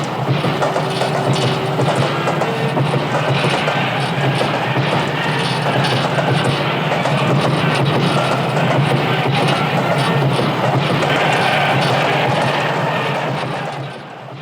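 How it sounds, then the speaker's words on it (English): A continuous, steady rumble of a running train in the film Stalker, broadband and sustained throughout, with a faint tonal whine early on, fading slightly at the very end. "the now familiar leitmotif of running trains"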